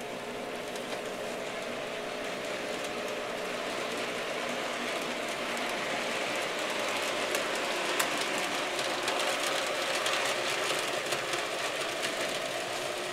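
Two N scale model train engines run on a layout, producing a continuous close whirring and rattling of small motors and wheels on track that holds steady throughout.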